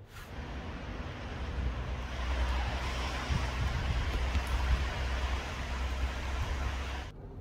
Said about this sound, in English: I don't want to show you because it's raining.